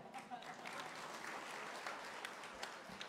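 Audience applause fills a Marathi speaking event, a steady broadband patter of many hands clapping throughout, fairly faint and distant, with a voice faintly present beneath it.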